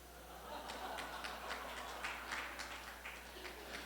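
An audience at a teachers' lecture claps, a soft, distant scatter of many hands applauding steadily over a faint low hum.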